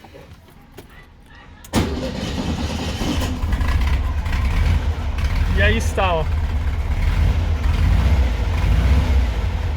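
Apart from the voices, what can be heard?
Volkswagen Beetle engine starting and running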